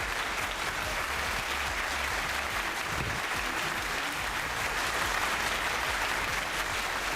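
Studio audience applause greeting a guest on a Pakistani cricket-themed talk show, sustained even clapping throughout, fairly distant and uniform with no voices over it.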